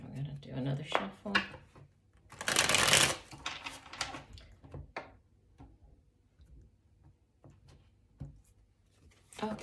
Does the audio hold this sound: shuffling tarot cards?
yes